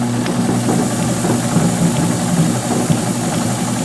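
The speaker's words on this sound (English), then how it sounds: "I've already sewn on this, just so you can see it and hear it." A Brother American Home Deluxe sewing machine runs steadily through six layers of 12-ounce denim, giving a continuous, even motor hum at close range with no pauses.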